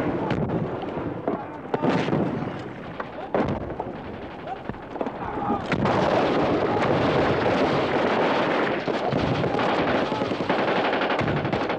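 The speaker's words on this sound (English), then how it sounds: "With careless abandon, they shot up everything in sight" Dense automatic gunfire and weapon blasts from 1973 Yom Kippur War combat as Egyptian forces fire freely, loud and continuous, building into a sustained roar of overlapping bursts with no one firing back.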